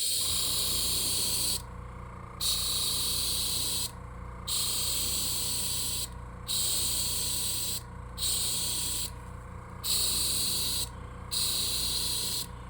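A paint spray gun coats TWP 100 fishing baits in repeated hissing bursts, about seven evenly spaced sprays of a second or two each, with a low steady hum between them.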